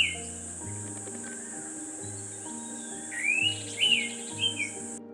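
Orange-headed thrush mimicking the call of an Indian Pitta, clear whistled notes rising near the end over a steady cricket chorus and distant background birds.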